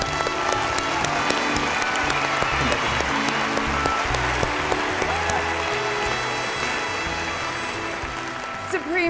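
Applause from a large audience at an anniversary television gala honoring charities and guest presenters, steady and dense throughout with a constant crowd wash and no talk.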